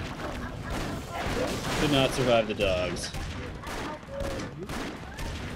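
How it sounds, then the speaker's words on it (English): Rapid gunfire and explosion effects from the game Broforce rattle on in dense bursts, with a player talking over the din. "The freaking sound effects in this game are amazing. Like, the gunfire and everything."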